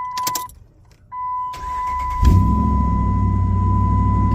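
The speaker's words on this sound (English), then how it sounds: "I'm going to have to start and stop my engine several times" A Dodge Ram 1500 pickup with a HEMI engine, being repaired for a cylinder 8 misfire, cranks with a key jingle and catches at once, then settles into a loud, steady, close idle rumble.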